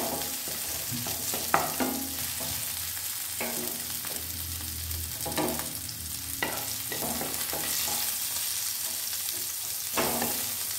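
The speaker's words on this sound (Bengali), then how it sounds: "খুব বেশি ভাজবো না, তাহলে এর ক্রাঞ্চিনেসটা নষ্ট হয়ে যাবে। একটু নাড়াচাড়া করবো।" Paneer for a stuffed paneer pasanda sizzles gently in a pan, with repeated scraping and clanking as a spatula stirs it now and then over a soft, steady frying hiss.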